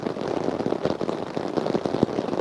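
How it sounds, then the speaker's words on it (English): Steady rain patters outdoors on a red deer hunting trip in rough country, a dense continuous crackle of drops with a few sharper taps, fairly close and even in level throughout. "now the rain's come back here"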